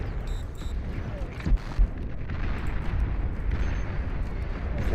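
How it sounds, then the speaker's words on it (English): Detonation in a video game battle, a dense roaring rumble of blasts and debris filling the whole stretch, with a couple of sharper booming hits along the way. "Forced to detonate that guy."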